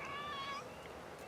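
A cat meows once, a short rising-and-falling cry, fairly faint against a quiet background.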